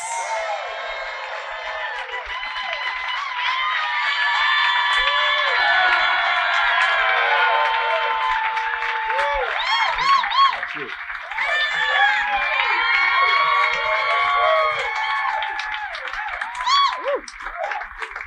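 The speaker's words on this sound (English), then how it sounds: "is this still exciting that people clap for you everywhere you go?" A studio audience claps, cheers and whoops as Jack White walks out, a sustained, lively crowd roar with shouts rising and falling over nearly twenty seconds.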